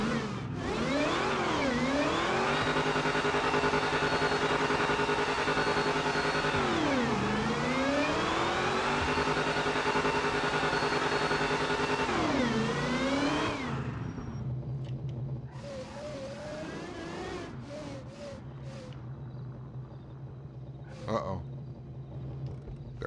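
A drag racing game car engine roars at high revs, rising and dipping in long sustained pulls during a tire warm-up burnout, then cuts back to a lower idle with scattered clicks and some talking.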